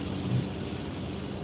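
Deep rumbling thunder rolls through a severe storm over Nassau County, New York, a steady low roar with a slightly heavier swell early on, mixed with constant rain hiss and no voices.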